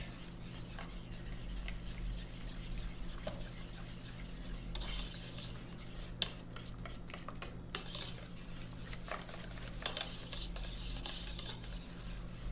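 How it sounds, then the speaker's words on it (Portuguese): Condensed milk paste being stirred in a pan, the spoon rubbing and scraping against the metal in steady repeated strokes, fairly quiet and close, with one sharp knock partway through and no talking. "Misturo novamente."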